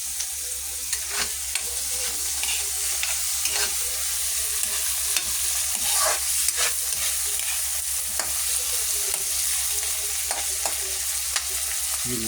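Onion, garlic and tomato sizzle in a hot pan with pakbet vegetables, frying steadily close up while a spoon stirs and scrapes in irregular knocks, no voices.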